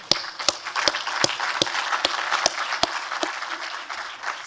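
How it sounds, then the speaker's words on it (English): A round of applause for Christine and the team rises from an audience, with dense clapping close and fairly loud. A few sharp individual claps stand out at a regular pace over the steady wash. "In fact, round of applause, actually, for Christine and the team."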